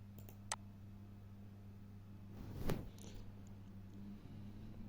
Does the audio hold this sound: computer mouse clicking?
yes